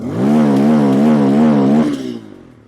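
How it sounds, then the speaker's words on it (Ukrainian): A Bajaj Pulsar motorcycle engine revs loud and close through its exhaust, holding a steady wavering pitch for about two seconds before dropping off and fading quickly. "Чисто по сприйняттю на слух цей вихлоп е, здається цікавішим."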